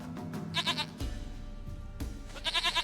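Repeated nearby goat bleats from The Witcher 3 video game, two bursts of quavering calls separated by a stretch of ambient game noise, with brief thumps in between.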